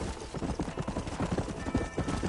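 A horse in Red Dead Redemption trots along with steady, close, rhythmic clip-clop hoofbeats that continue evenly without pause.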